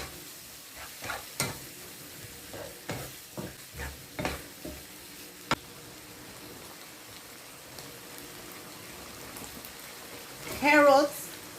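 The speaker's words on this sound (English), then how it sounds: "Going to mix my fish sauce, brown sugar," Fish sauce and brown sugar are stirred into noodles in a pan, with soft sizzling under a series of scraping, tapping stirring strokes and a brief voice near the end.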